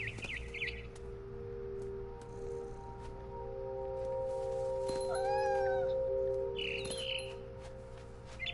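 A cat in the video game What Remains of Edith Finch gives several meows and a drawn-out caterwaul, mixed with sharp bird chirps over a low ambient hum.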